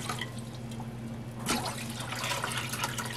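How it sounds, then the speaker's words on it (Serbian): Water is poured into a small cooking pot, a steady splash and trickle from a tap that thickens partway through over a low background hum, with no voices. "Za početak je potrebno da u jednu šerpicu usipate 2 litre vode."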